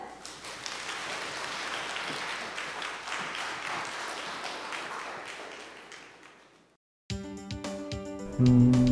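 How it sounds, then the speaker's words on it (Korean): An audience at a Korean science lecture applauds to welcome the professor onstage, a broad sustained clapping that fades out before a sudden burst of music. "큰 박수 부탁드립니다"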